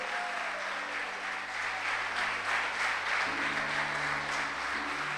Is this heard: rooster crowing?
no